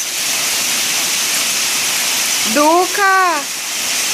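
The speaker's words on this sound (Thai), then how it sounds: "ไม่เคยเห็นพายุลูกเห็บมากขนาดนี้เลยค่ะ" Heavy hail pounds down in a dense, steady roar throughout a storm in Leiria, Portugal, while someone speaks briefly over the din.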